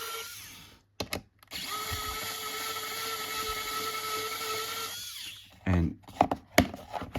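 A power screwdriver whirs steadily for about four seconds as it undoes screws on a geocache maze box, followed by scattered clicks and handling knocks, with a few brief words spoken.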